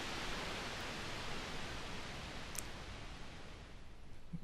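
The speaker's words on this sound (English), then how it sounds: "the colour control, rotate it anti-clockwise, it applies low pass filtering to the noise" Broadband noise from an AJH Synth Eurorack sample-and-hold module hisses steadily and softly, its tone gradually darkening as low-pass filtering trims the highs, with one faint tick midway.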